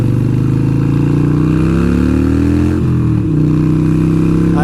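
A motorcycle cruises along a road with its engine droning loud and close, the pitch sliding as the rider shifts and changes speed, with steady wind rush throughout.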